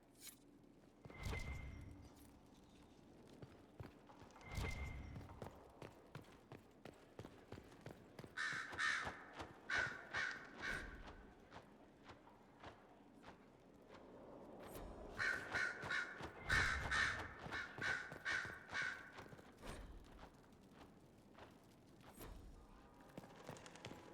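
Crows cawing in Dragon Age: Inquisition, two bursts of repeated harsh caws several seconds apart, fairly close, over quiet footsteps and ambient game sound.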